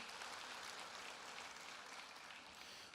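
A church congregation applauds with a dense, steady wash of clapping that stays even throughout and sounds somewhat distant and soft.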